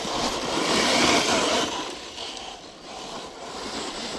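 Kyosho MP9 EVO nitro RC buggy with a small engine, a buzzing rev that swells and fades at a moderate distance, with no talk.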